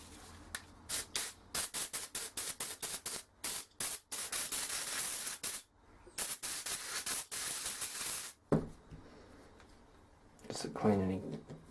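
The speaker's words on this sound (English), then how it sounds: "now I'm going to just get some brake clean" Aerosol brake cleaner spraying close up on a HK 450 GT Pro in repeated short bursts, then a longer continuous hiss, with a person talking briefly near the end.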